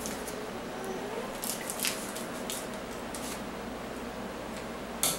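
Scissors snip open a yeast packet for a home brew in a few quiet, close crisp cuts amid soft rustling, with no talking.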